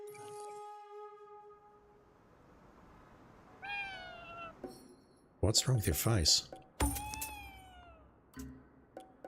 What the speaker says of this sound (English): Although we're just listening to the cats right now.